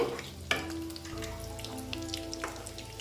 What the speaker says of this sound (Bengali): দেখো এটাকে উল্টিয়ে দিচ্ছি